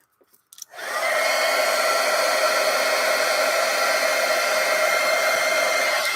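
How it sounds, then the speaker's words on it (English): Heat tool blowing hot air to dry ink on a Japanese stab-bound book, switching on after a few faint clicks and then roaring steadily and loudly, close by, with no talk. "take out your heat tool and check it out"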